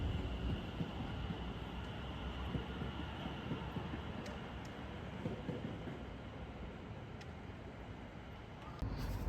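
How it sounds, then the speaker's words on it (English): A train on the Lea Valley line pulls into a station with a steady low rumble and rolling wheel noise, fairly distant and continuous throughout, with faint squeaks. "As another train pulls into the station heading towards Stratford"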